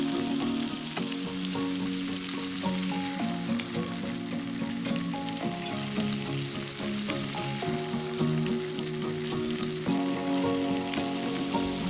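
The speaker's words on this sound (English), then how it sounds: "sear that steak 3 to 4 minutes each side to seal in all those flavors with that Maillard reaction" Steak searing in a hot pan gives a steady, loud sizzle and crackle throughout, with a continuous frying hiss and no voices.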